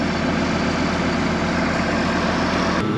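A tractor engine runs steadily while dumping a load, a loud, continuous low rumble heard close up from the cab, with a brief change near the end.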